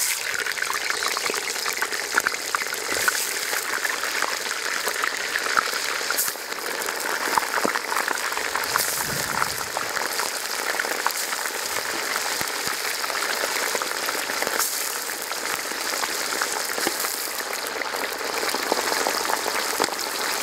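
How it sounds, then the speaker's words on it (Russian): Meat sizzling in hot oil in a kazan, a steady dense crackle and hiss that stays constant and close for the whole stretch, with no talking. "Тоже обжариваем до золотой корочки."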